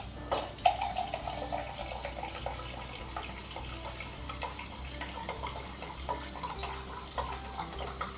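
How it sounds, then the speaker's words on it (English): Sparkling water pours into a measuring cup in a home kitchen, a steady fizzy trickle of liquid with small splashes and drips, fairly quiet and close, with no talking over it. "I'm just gonna measure out 2 cups of sparkling water"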